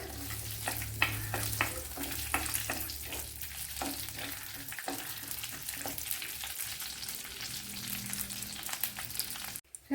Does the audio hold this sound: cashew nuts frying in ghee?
yes